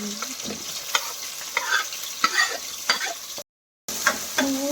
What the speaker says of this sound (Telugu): నెక్స్ట్ చాప్ చేసి పెట్టుకున్న ఆనియన్స్ యాడ్ చేసేసేయాలి